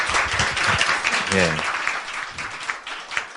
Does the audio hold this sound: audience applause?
yes